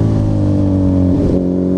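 Honda CB 1000R motorcycle with a K&N filter and a titanium GRS exhaust screaming at high revs toward the limiter, a loud sustained harmonic whine that briefly wavers and dips near the end, no talking.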